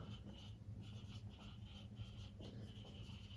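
Marker or chalk writing out an equation on a board during a physics lesson on electric dipoles, a steady soft scratching of strokes over a low background hum, close and fairly quiet, with no talking.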